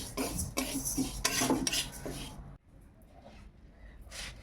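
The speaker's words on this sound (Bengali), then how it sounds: "কলাইটা আগে শুকনো কড়াই ভালো করে ভেজে নেই।" Mung lentils dry-roasted in an empty wok on a village stove, a spatula scraping and stirring in quick rasping strokes that stop, leaving a quiet sizzle and faint clinks.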